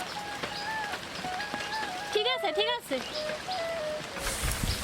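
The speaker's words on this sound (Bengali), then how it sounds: "এখন যেহেতু বর্ষাকাল চারিদিকে কিন্তু ঝুম বৃষ্টি" Steady monsoon rain falls over a Bangladeshi village as an even hiss, with a few bird calls and a voice speaking briefly in the middle.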